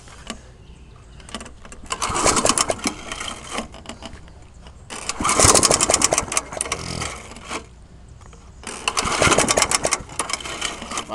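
An old lawnmower engine is cold started, with three bursts of sputtering, rattling engine noise that each fire briefly and then die back, separated by quieter gaps.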